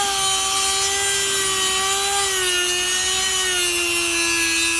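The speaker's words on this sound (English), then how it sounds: "So Dremel definitely does the trick." Dremel rotary tool widening holes in wooden stall bars, a steady high-pitched whine with grinding rasp on the wood, loud and continuous throughout with a slight dip in pitch midway.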